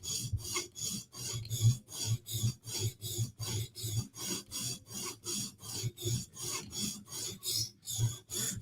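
Repeated rasping strokes of a blade heel against a sharpening stone on a Sage 5 knife, steady back-and-forth rhythm of about two strokes per second, close and clear with no talking.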